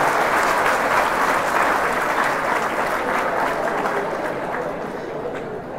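An audience at a talk applauds, a dense wash of many hands clapping steadily and loudly, easing slightly toward the end.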